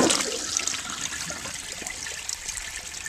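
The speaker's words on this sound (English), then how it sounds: "and the bowl is full, and we'll flush it." An Eljer Waco toilet, tested outdoors, is flushed, giving a strong rush of water at the start that fades into steady trickling and gurgling as the bowl drains, close and clear.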